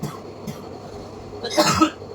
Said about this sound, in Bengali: প্রচণ্ড ঠান্ডা লেগেছে কাশি হচ্ছে